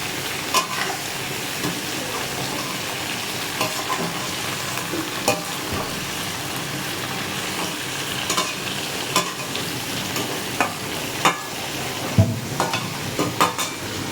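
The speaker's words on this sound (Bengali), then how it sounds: "এই যে সবজিগুলো এবার নাড়িয়ে চাড়িয়ে দিলাম।" Vegetables frying and sizzling in a pan while being stirred, a steady hiss under irregular scrapes and knocks of the spoon against the pan, close and continuous.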